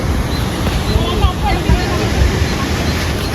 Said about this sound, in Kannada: ಇತ್ತಾಗ ನೀರು ಹೋಗ್ತೈತಿ ನೋಡ್ರಿ ಇಷ್ಟು ನೀರು ಹೆಚ್ಚತ್ತ ಆಚೆ ಕಡೆ ಕೆಳಗೆ ಬಿಡಾತಾರ